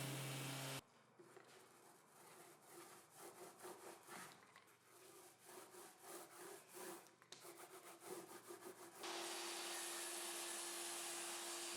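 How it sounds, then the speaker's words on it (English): Sanding an OSB workbench with a power sander, a steady abrasive buzz with rhythmic rubbing strokes, then a louder continuous machine whine near the end, close and alone. "Since it's easier now, I'll sand and paint the entire bench now."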